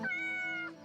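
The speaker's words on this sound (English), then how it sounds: "Also, we gotta pet the cat." A cat in the video game Yes, Your Grace meows once while being petted, a single clear drawn-out meow of close, moderate loudness, with no talking.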